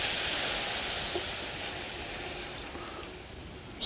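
White balsamic vinegar sizzles steadily in a hot pan, a dense broadband hiss that starts loud and slowly eases, close and continuous with no talking, ending with a brief sharper burst.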